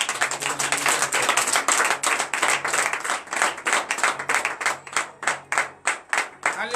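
A congregation at a Monday morning prayer service in Benin claps in acclamation, steady and fairly loud for the whole stretch, and the rhythm grows more regular and evenly spaced toward the end.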